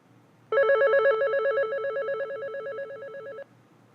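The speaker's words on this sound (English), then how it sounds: "If we press the volume button, we can set the ringer" A Panasonic KX-TGM450S cordless phone handset plays its ringer tone, a clear warbling electronic trill that rises from silence, sounds steadily for about three seconds, then cuts off abruptly.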